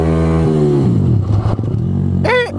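A Benelli BN 125 motorcycle being ridden over bumps, its engine loud and close, the note dipping then climbing as the throttle changes, ending with a short rattling clatter.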